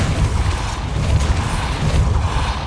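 Depulso spell cast in the Hogwarts Legacy video game gives a dense, rumbling magical burst, a loud, sustained low whoosh with booming texture filling the short moment.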